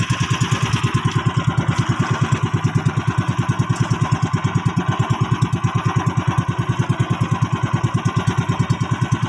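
A motorized boat engine runs on a crab-fishing trip in deep water, chugging in a loud, fast, even rhythm that holds steady with no talking over it.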